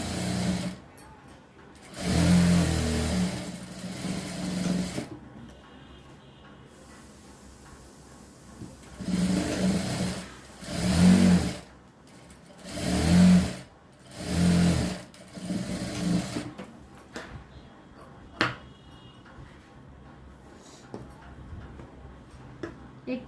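Sewing machine stitching the side seam of a blouse in short bursts, several whirring runs of a few seconds each separated by pauses, fairly close, with someone speaking in between.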